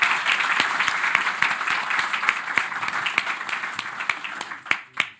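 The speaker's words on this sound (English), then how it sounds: "I'd like the audience just to help me in giving them a warm applause for" Audience applause for panelists at a BRICS Summit 2023 capital markets session: dense steady clapping from a large crowd, fairly loud and close, thinning and tapering off into scattered claps near the end.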